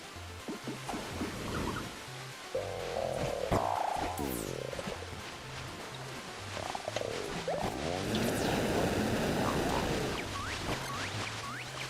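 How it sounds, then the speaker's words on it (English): Frogs croak in the Guild Wars 2 game world near a waterfall, with repeated croaks mixed into a busy layer of game music and effects and rising, chirping tones. "Damn those frogs."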